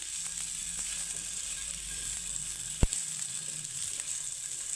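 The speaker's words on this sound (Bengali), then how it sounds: "একটু চটপটা মুখরোচক বানানোর জন্য আমি একটু এইভাবে তরকা দিয়ে দিচ্ছি" Tarka tempering sizzles in hot oil for a moong dal and curd breakfast dish, a steady close hiss with one sharp pop partway through and no voices.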